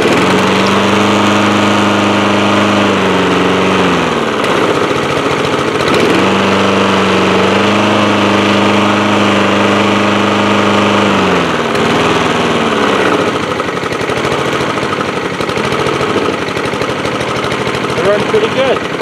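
A Honda HRS216 walk-behind lawn mower engine running loudly and steadily after a pull start with the choke on, its pitch dipping and recovering a couple of times, close and continuous throughout.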